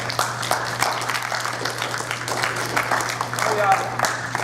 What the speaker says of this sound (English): Give Brent Miller a big round of applause.